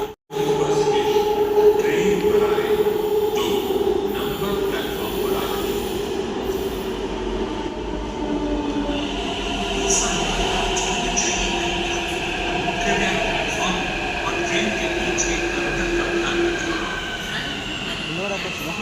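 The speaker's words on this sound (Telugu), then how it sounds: "అనౌన్స్మెంట్ ఇచ్చేసారు ట్రైన్ కూడా వస్తుంది" A Hyderabad metro train pulls into a station platform, a loud, close rumble that builds with squealing wheels and a steady rolling drone lasting throughout, while people talk nearby.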